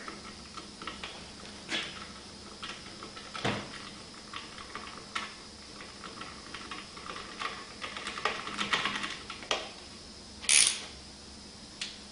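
A 12mm socket tightening a factory bolt through the bottom bracket into the frame while installing a full undertail exhaust on a Honda Grom motorcycle: scattered light metallic ticks and clicks, close by, ending with a sharper burst, no speech.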